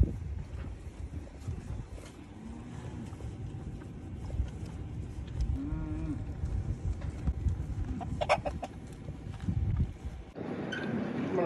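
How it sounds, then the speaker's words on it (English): A farm chicken clucks while feeding alongside cows at feeding time, soft intermittent clucks mixed with rustling, munching and livestock movement, with a brief sharper sound late on. "This chicken always comes down and eats with the cows when they get fed."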